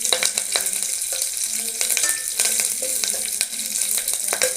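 Mustard seeds, dried red chilli pieces and curry leaves sizzle and crackle in hot oil for a tempering, a bright continuous fry with frequent sharp pops and a few clinks, close and loud.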